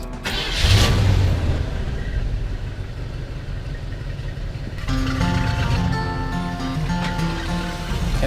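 A car engine fires up with a loud start, settles into a steady idle, then revs and pulls away with rising engine tone, close by and with no voices.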